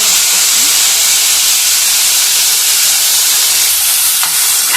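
Cut tomato pieces frying in a pan for a ridge gourd chutney, giving a steady loud sizzling hiss with no pauses throughout and no talking.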